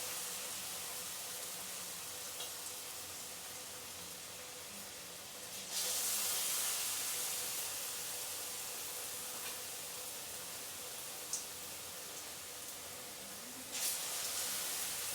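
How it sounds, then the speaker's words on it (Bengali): Battered potato chops frying in hot oil in a small wok for a Bengali aloo chop, a steady broadband hiss of sizzling that swells louder partway through as more pieces go into the oil, with no talking. "আমি 3টে করে ভাজছি"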